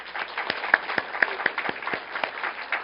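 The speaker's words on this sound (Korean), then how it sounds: "우리 박수 한번 주세요." Members of a church congregation at a Sunday morning service clap in a short burst, with distinct individual claps popping above a dense patter of hands, close and fairly loud.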